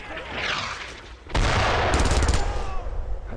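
Sustained machine gun fire with booming blasts bursts out mid-battle in Brothers in Arms: Road to Hill 30 against German paratroopers, loud and dense after a quieter opening, with soldiers shouting around it.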